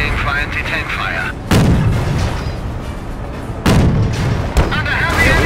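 Marder anti-tank gun in Company of Heroes firing two loud, sharp booming shots about two seconds apart, each with a rumbling tail, over steady battlefield background noise.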